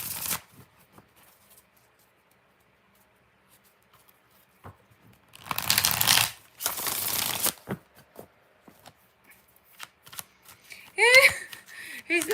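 Tarot cards are shuffled by hand in two loud, close riffling bursts separated by a short pause, followed by scattered soft card taps and a brief high-pitched voice.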